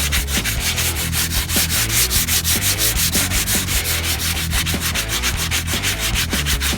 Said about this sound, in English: I'm still sanding. Can I show you a little bit of sanding here?